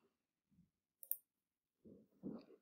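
A single quiet mouse click on an OK button, a sharp brief tick standing alone in near silence, followed by faint low shuffles.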